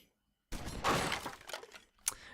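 A gunshot smashes wooden crates in the gangster video game Omerta: City of Gangsters, a sudden loud crash of breaking and splintering, then a short sharp crack near the end.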